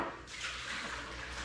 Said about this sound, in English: In the meantime, I rinsed a bunch of jars.